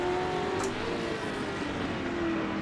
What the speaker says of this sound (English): Big downshifts there.